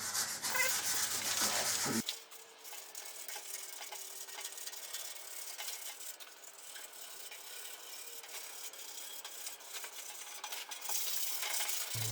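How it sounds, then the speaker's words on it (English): Light scuff sanding across a shiny metal bash plate, a steady close rubbing and scratching texture that runs continuously without talk. "Just start off with a light scuff, just to break that shine honestly."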